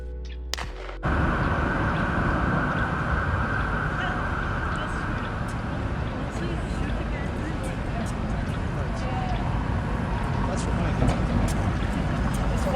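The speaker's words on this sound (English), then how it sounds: "Manchester ambience." Steady urban ambience with a dense wash of traffic rumble and crowd noise, with occasional honks and distant clatter throughout.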